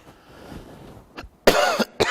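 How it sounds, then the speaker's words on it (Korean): One man coughs a few times in a quiet room during a maths lecture: first a faint throat sound, then two sharp, close coughs. "아 요즘에 기침하면 안 되는데 그죠?"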